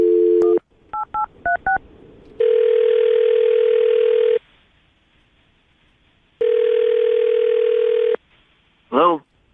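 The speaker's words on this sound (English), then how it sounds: "we're about to dial the phone number right now, get him on the phone" A telephone dials for a radio call-in with a quick run of keypad tones, then two long, loud ringback tones separated by a pause, followed by a short burst as the line connects.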